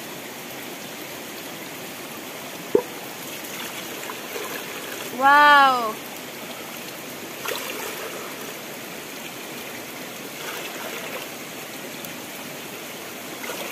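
Fresh river water in a Nagaland riverside setting flows as a steady, close rushing wash throughout, with a brief voiced exclamation and a short sharp tap early on.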